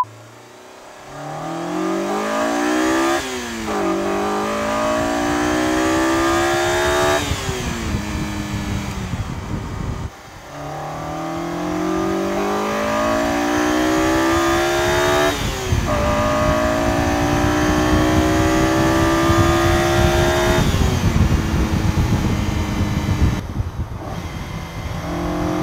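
A Honda S2000 with its stock intake revs hard through repeated rising engine pulls, each climbing in pitch before dropping at a gear change. It sounds loud and close, with no talk over it.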